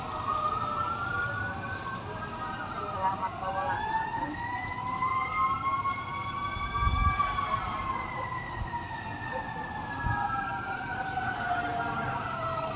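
An ambulance siren wails continuously at a fire scene in a Taguig City village, rising and falling tones in the middle distance over steady street and crowd rumble, with a low thump midway.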